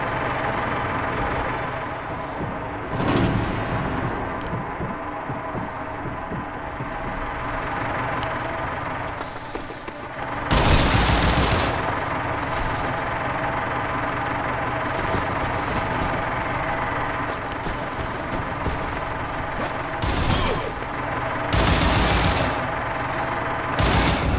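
Gunfire from Sniper Elite V2 Remastered cracks in a few sharp, loud bursts over a steady engine-like background drone, with one shot early, a heavier burst near the middle and a cluster of reports toward the end.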